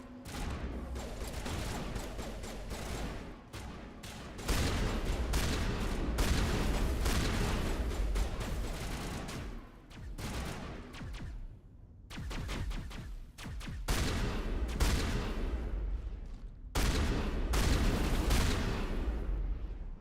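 Shotgun fire at a dig site in Mass Effect Legendary Edition, as loud, dense volleys of blasts and impacts that run for several seconds at a time, separated by brief lulls, with no talking.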